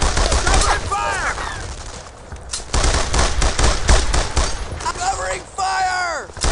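Rapid bursts of rifle and machine-gun fire crackle through a World War II shooter battle in Brothers in Arms: Earned in Blood, loud and continuous, mixed with shouted soldier voices.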